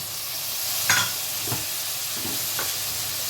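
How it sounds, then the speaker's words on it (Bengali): Ground spices with Kashmiri chili powder and turmeric, with a splash of water added, frying in a pan with a loud, continuous sizzle and a few sharp stirring knocks. "মশলাটা ধুয়ে আমি একটু জল দিয়ে দিলাম"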